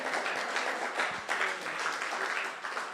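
A church congregation applauds the Lord with dense, continuous clapping that stays loud and steady throughout.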